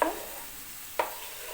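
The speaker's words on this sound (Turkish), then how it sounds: "Önce soğanlar kavrulsun." A spoon scrapes through a pan twice over a quiet, low sizzle of onions frying, the stirring strokes close and distinct.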